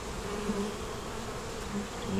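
Honeybees hum softly on a hive frame, a faint, steady buzz with occasional louder passes close by.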